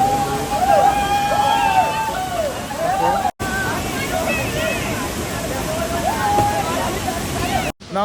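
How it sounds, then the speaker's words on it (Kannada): A small waterfall gives a steady, close rush of splashing water, with people talking in the background and a few high chirps over it. "ಇಲ್ಲೊಂದು ಮಿನಿ ಫಾಲ್ಸ್ ಕೂಡ ಇದೆ"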